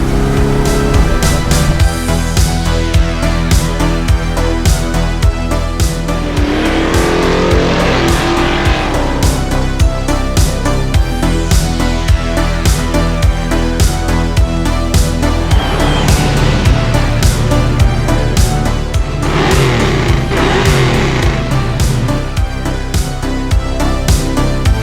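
A 1965 Dodge Coronet on a test drive, its engine note loud and continuous with rising and falling revs through gear changes and a broad rumbling drone throughout.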